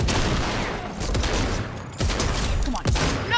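Six-shooter revolver gunfire in the video game Fortnite: several sharp, loud shots spaced about a second apart ring out over a constant, busy game background.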